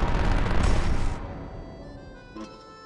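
A burst of gunfire from a debugging gun in the video game There Is No Game, a loud dense blast for about a second that then drops away to a fainter ringing tail.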